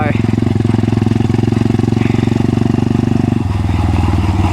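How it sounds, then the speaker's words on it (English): A Crossfire CF pit bike engine idles while warming up outdoors on a cold, sunny day after snow, a steady close chugging putter that shifts to a slightly different rhythm near the end. "we'll just give the bike a chance to warm up"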